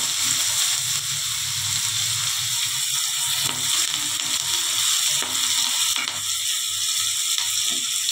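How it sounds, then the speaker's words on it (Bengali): Chopped onions go into hot oil already tempered with whole spices for a spiced fish curry (aar macher kosha) and fry with a loud, continuous sizzle, broken by rhythmic stirring scrapes and clicks, with no voices. "ফোড়নটা হয়ে গেছে, পেঁয়াজ কুচিগুলো দিয়ে দেবো।"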